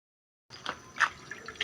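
Water poured into a cooking pot for Filipino paksiw na pakuko, a brief splashing pour that starts abruptly after a moment of silence, close and fairly soft.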